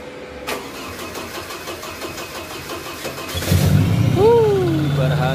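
A Chevrolet Blazer engine cranking and then catching after installation, revving up loudly and settling into a rough idle, close by, with a voice heard briefly.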